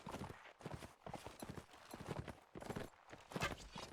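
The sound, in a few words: horse hooves clip-clopping in a video game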